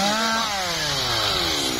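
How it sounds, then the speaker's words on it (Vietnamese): A chainsaw cuts into the base of a large eucalyptus tree, its loud engine whine sliding steadily downward in pitch as the chain bogs into the wood, close and continuous with no talk. "Chú bắt đầu chặn gốc để chuẩn bị cưa gốc,"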